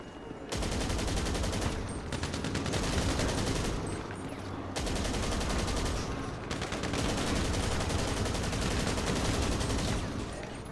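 Rapid, sustained gunfire from a video game shootout, dense bursts running almost continuously with a couple of brief gaps, loud and close, with occasional voices talking underneath.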